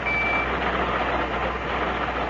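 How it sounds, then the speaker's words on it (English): Pocket alarm watch beeping in a radio drama, a steady electronic tone pulsing over low background hum, fairly close and alone without speech. "I've got a pocket alarm watch, and it keeps trying to tell me something."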